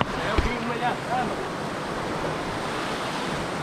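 Broadband steady rush of falling water at Cachoeira do Pacu, a waterfall along the Estrada Real near Diamantina, filling the clip as a constant near roar with a brief bump of handling noise and faint voices early on.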